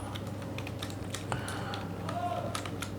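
Rapid soft clicking of computer keyboard keys being typed, steady and close, over a low electrical hum with faint background voice.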